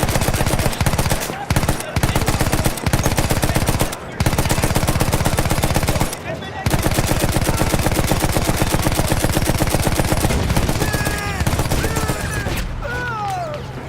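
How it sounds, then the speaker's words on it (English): Sustained rapid automatic gunfire from a video game battle roars up close and loud, with dense bursts broken by a few brief gaps and shouted voices faintly underneath. "Fire! Keep shooting!"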